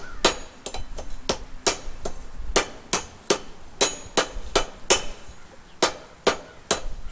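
Sharp metallic hammer blows ring out on welded steel of a garden trowel being straightened, struck in irregular bursts of single and paired hits, close and clear with quiet gaps between.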